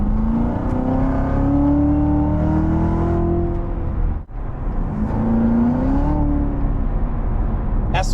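A Corvette Z06 C7 engine heard from inside the car, climbing steadily in pitch under load, briefly dipping around a shift, then pulling up again in a loud, sustained rising drone.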